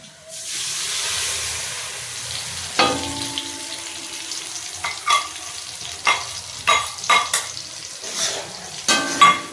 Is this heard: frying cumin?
yes